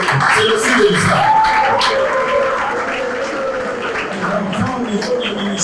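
An audience applauds at a public broadcast event with school students, a continuous patter of clapping mixed with voices talking over it.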